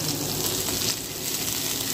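Chopped garlic and onion fry in hot oil in a pan, giving a steady, dense, close sizzle throughout with no talking.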